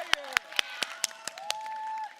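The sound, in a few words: audience clapping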